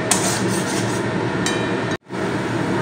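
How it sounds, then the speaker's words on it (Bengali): Cashews stirred continuously in a cooking pan while a rohu fish curry cooks, a steady scraping and rubbing sizzle that runs loud and unbroken, stops for a moment, then resumes. "যেহেতু এখানে আমার কাজু আছে, তো নাড়তে হবে অনবরত"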